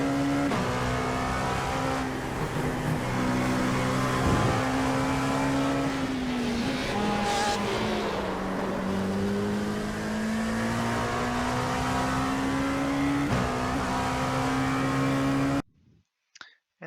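Race car engine heard onboard in the iRacing video game at Watkins Glen, a loud sustained engine drone with pitch rising and falling through gear changes, cutting off abruptly near the end.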